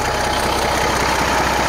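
A 1985 Freightliner FLC truck's diesel engine idles steadily up close, a loud, even low rumble with a fast knocking pulse and no talking.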